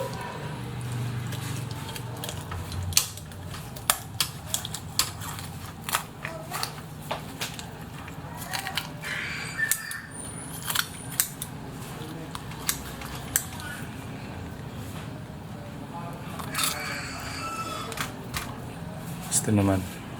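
Sharp scissors snipping through a raw chicken backbone while preparing fried chicken, a series of crisp, scattered crunching cuts under a steady background hum, with a person speaking throughout.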